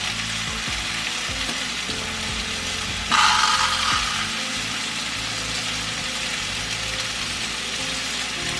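Rice hits a hot pan for a vegan mushroom risotto and bursts into a loud sizzle for about a second, then settles back into a quieter, steady frying hiss.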